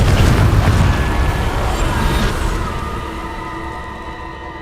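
A Confringo fire spell from Hogwarts Legacy bursts in a loud booming explosion, a heavy low-end blast that rolls into a fading rumble and crackling debris over several seconds.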